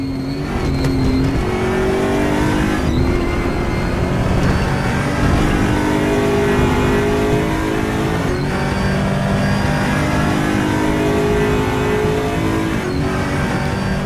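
ESR Aquila race car engine at Monza, revving hard and steadily to around its shift point with loud, continuous engine roar and occasional gear-change breaks, no talk.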